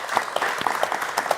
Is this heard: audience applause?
yes